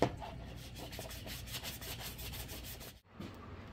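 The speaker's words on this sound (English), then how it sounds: "They're sanding for me" Steady abrasive rubbing, a continuous scratchy sound of wet sanding a Subaru's body, with brief pause near the end, fairly close and moderately loud.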